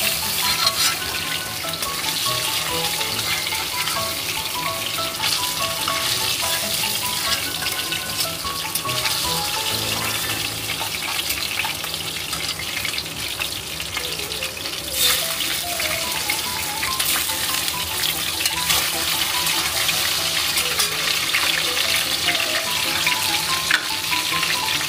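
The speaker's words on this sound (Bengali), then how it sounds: "মাছগুলোকে হালকা আঁচে উল্টে পাল্টে নিতে হবে, এটা কড়া ভাজা হবে না।" Ilish fish pieces frying in oil in a pan on a low flame, a steady close sizzle with small crackles and spits that runs on evenly for the whole stretch, with no voices.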